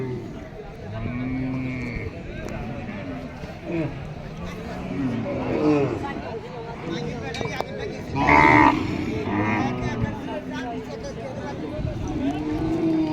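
Cattle at a livestock market moo in drawn-out low calls, several rising and falling over the scene, mixed with nearby people talking loudly.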